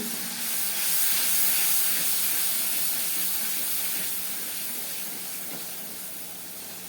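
Masala of ginger, garlic, turmeric, chili and coriander powder frying with a splash of water in a village kitchen gives a steady, loud, continuous hiss and sizzle with no talking.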